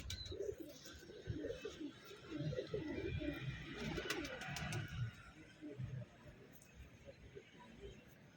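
Pigeons coo softly in a rooftop loft, with low, repeated murmuring calls and fluttering faintly in the background while a few chirps and quiet voices mix in.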